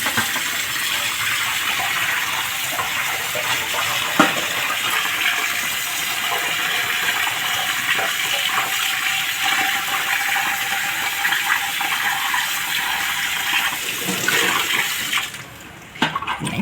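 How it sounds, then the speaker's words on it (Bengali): Water from a tap runs steadily for a long stretch while chhana (cottage cheese) is washed, a constant close splashing rush with a few faint knocks before it tapers off at the end. "ছানাটাকে ধুয়ে নেব।"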